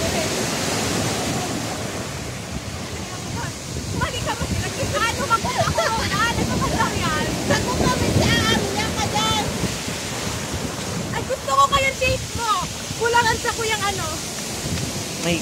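Ocean waves wash onto Patitinan White Beach, a broad rushing surf mixed with wind buffeting the microphone, while people talk and exclaim over it.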